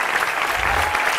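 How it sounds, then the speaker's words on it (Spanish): A studio audience gives a big round of applause for Gloria Benavides on a television variety show, steady dense clapping throughout with a faint crowd murmur underneath. "gran aplauso"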